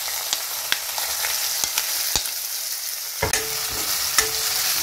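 Spices with onion, ginger and garlic paste fry in hot oil for an Assamese fish and pumpkin curry, giving a steady close sizzle broken by several sharp clicks of a spatula against the pan, with no talk.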